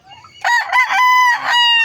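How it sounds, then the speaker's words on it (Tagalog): A rooster crows loudly and close, one long strained call rising and holding before breaking off. "Kasi ako may mga manok dito"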